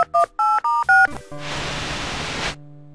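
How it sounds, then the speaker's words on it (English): A video phone in the Tex Murphy: The Pandora Directive video game dials out with five quick, clear touch-tone beeps, followed by a burst of hissing static that cuts off into a low connection hum. "let's make a phone call back to Fitzpatrick"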